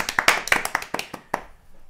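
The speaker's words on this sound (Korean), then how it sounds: "박수가 절로 나옵니다." Hands clap in a quick, uneven run of about a dozen sharp claps that speed up and then trail off into quiet, picked up close and moderately loud in a small indoor room.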